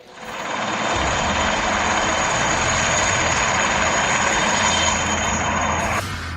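An SA 330 Puma helicopter flies overhead, its engine and rotor roar a loud, steady broadband drone held for several seconds before easing slightly near the end.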